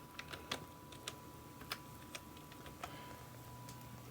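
Keystrokes on a computer keyboard connected to a Korg Kronos synthesizer, a sparse series of faint, irregular clicks over a low steady hum.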